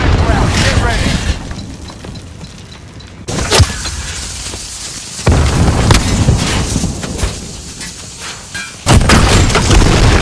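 Grenade blast and gunfire in the Call of Duty Modern Warfare video game, with sharp loud bursts breaking through a dense, noisy battle mix while players talk over the action.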